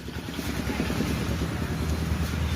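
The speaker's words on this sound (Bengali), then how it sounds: "আমরা যাবো এই দেখুন বাইকে করে এই যে বাইক" A motorbike carries riders toward a market and Ilambazar park, its engine a low steady throbbing rumble mixed with rushing wind noise, close and continuous throughout.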